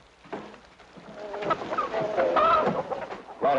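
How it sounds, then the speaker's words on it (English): A chicken clucks in a wartime drama scene, a run of short rising and falling clucks and squawks, close and clear, growing busier toward the end with no talk over it. "Roddick, what do you think you're doing with that chicken?"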